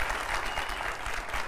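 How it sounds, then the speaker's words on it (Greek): A studio audience on a quiz show applauds warmly to cheer on the contestants. It is a steady wash of many hands clapping at once, sustained and close, with no speech over it. "ένα θερμό χειροκρότημα από το κοινό μας να εμψυχώσουμε τους παίκτες"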